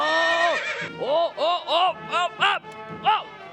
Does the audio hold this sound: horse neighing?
yes